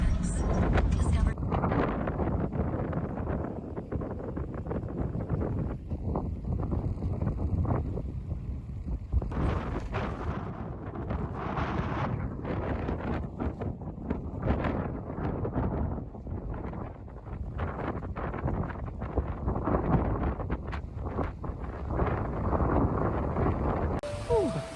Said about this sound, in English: It's a bit breezy today.